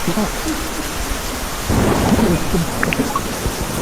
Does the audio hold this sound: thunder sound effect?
yes